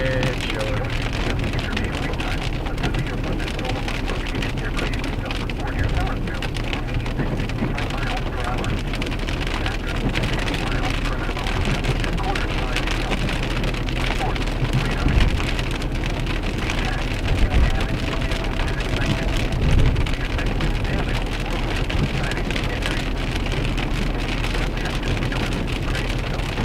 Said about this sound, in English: So we're getting some pea-sized hail with this